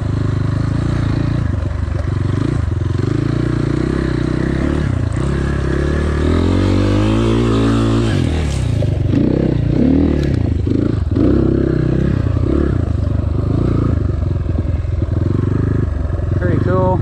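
A GPX FSE 250 E motorcycle on local trails, its engine revving as the rear wheel spins in sand, loud and continuous with rising and falling pitch and scraping clatter, with a rider talking over it.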